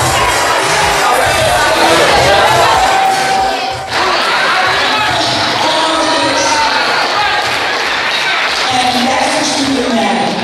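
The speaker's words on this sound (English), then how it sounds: "So give a round of applause to Sonia real fast." A loud crowd at an awards show in Harlem cheers, shouts and claps continuously, a thick roar of voices and applause close by with a brief dip partway through.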